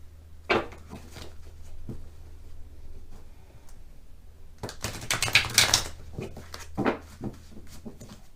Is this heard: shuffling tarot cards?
yes